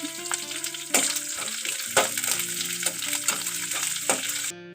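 Seeds tempering in hot oil with curry leaves and onions, steady crackling sizzle punctuated by several sharp spatula scrapes and stirring knocks, close and fairly loud.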